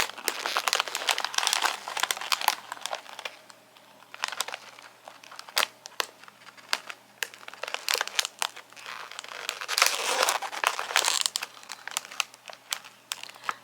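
Paper pieces for a Stitch and Angel themed party decoration are folded and pressed down, giving close, continuous crinkling and rustling with irregular crisp snaps and no talk.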